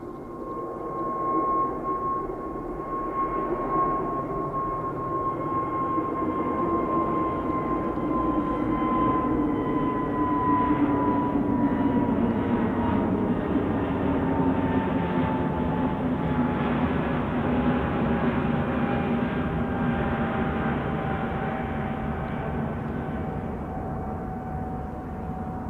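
An SAS Airbus A320neo departs Manchester Airport for Copenhagen, its engines giving a loud, steady roar with a high whine that holds for the whole stretch.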